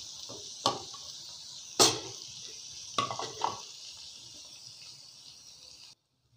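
Cumin is being stirred into yoghurt chicken in a pot, with a few sharp spoon clinks against the metal and a soft, wet scraping that trails off into quiet.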